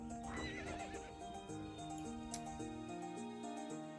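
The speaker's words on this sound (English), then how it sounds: "I wonder if Neil got off that horse yet." A horse in the video game To The Moon gives a loud, whinnying neigh over melodic game music. Clip-clop hoofbeats follow, and the music carries on after the neigh ends.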